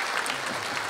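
Audience applause at a taekwondo show, a dense, steady patter of many clapping hands filling the whole brief moment with no voices on top.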